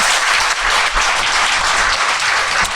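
A studio audience at a Korean talk show breaks into loud, dense applause, continuous clapping with no gaps across the short stretch.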